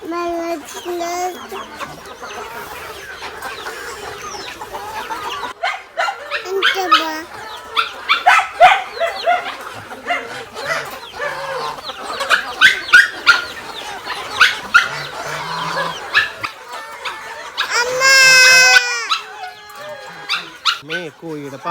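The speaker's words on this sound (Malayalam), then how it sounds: "കാക്കയല്ല, കോഴി." Backyard chickens cluck in short bursts around a coop at feeding time, mixed with a dog barking and people talking close by.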